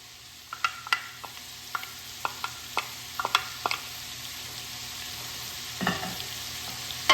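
Chickpeas, bacon and peppers fry in a pan, with a steady low sizzle and a string of sharp, close clinks and scrapes from stirring, spaced irregularly and heard alone without talk.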